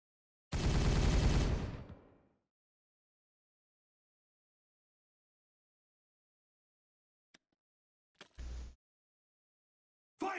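A loud burst of rapid automatic gunfire rattles for about a second and a half in Warhammer 40,000: Regicide, then near silence, a few faint clicks and a short muffled thump.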